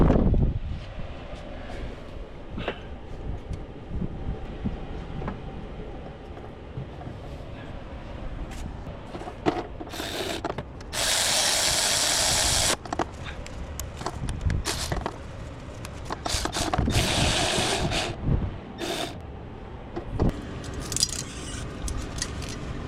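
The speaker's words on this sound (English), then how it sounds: "let me get the top bolt started now, and then I'll tighten them all at once." Ratchet clicks and metallic tool handling while bolts are tightened on the A/C compressor of a 2017 Nissan Altima, intermittent and close, with bursts of louder rasping.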